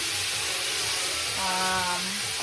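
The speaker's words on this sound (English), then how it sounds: "So you turn it over so you can sear the other side" Salmon fillet searing in a hot pan after being turned over, a steady broadband sizzle and hiss that swells briefly midway, with a faint tonal hum underneath.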